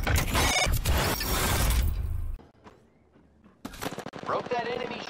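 Rapid gunfire from the Apex Legends video game, a dense loud burst that cuts out briefly, then returns with sharp shots and game effects.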